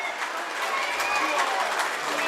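Featherstone Rovers rugby league fans at an away match against Dewsbury Rams applaud as their team walks out, a broad roar of clapping and crowd noise under a commentator talking.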